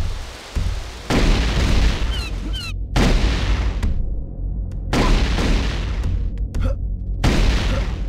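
Plasma rifle blasts in a competitive first-person shooter, a series of loud, heavy booming shots in bursts separated by brief gaps, close and forceful with a lingering roar between them.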